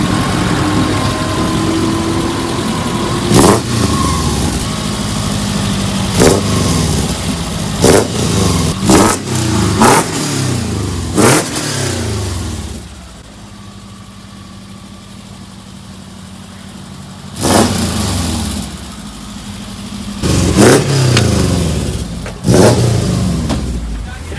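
A VW Bus converted to a Subaru engine with a custom exhaust, heard from inside while driving: loud engine note with repeated sharp revving bursts and shifts, a quieter lull midway, then more throttle blips.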